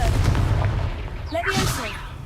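A Confringo fire-blast spell in Hogwarts Legacy, a short burst of booming magical impact with a whooshing, crackling tail, heard close after a character's shout.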